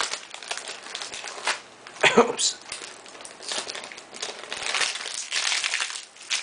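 Foil packs of 2017 Topps Update baseball cards are torn open, giving close crinkling and crumpling with a sharp rip near the middle. A person speaks briefly.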